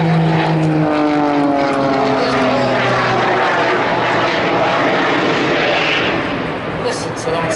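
A jet aircraft climbs and hovers at the Blackpool airshow, its engine a loud, continuous roar with a descending tonal whine that holds for several seconds.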